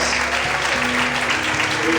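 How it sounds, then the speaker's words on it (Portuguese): A church congregation bursts into brief, dense applause, a steady wash of clapping with sustained tones and faint voices underneath. "Vamos podem aplaudir, vamos exaltar a Deus por isso."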